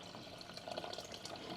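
Water is poured directly into a cooking pot while making a vegetable curry, a faint, steady splashing and trickling stream at low volume.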